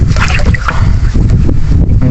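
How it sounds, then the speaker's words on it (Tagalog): Strong wind buffets the microphone outdoors at a cooking spot, a loud, continuous, rumbling roar with gusty fluctuations throughout. "Mahangin dito."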